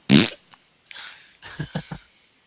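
A voice imitating a small fart with a quick blurt, followed by a few short breathy puffs and low sputtering pops.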